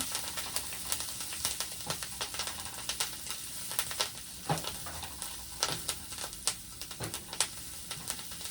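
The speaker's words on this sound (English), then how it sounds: "Stir it around." Kale, mushrooms, tomatoes and sausage sizzle steadily in a pan for pasta, with repeated scraping stirs and soft clicks of the utensil against the pan, close and fairly quiet, no talking.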